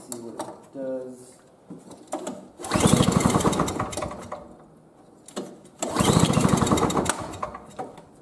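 A 2003 Murray snow blower engine is pull-started with a sharp recoil rip, then sputters and churns in two loud bursts of a few seconds each, separated by a quieter pause, close to the ground.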